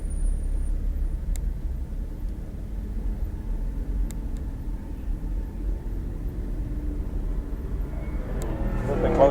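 A Lamborghini rolls along and pulls over, its engine a low, steady rumble heard from inside or close by, swelling slightly toward the end.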